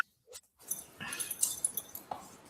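A dog heard faintly indoors during an online forum call, giving short whimpering and snuffling sounds in a quick broken series, quiet and close with no talk over it.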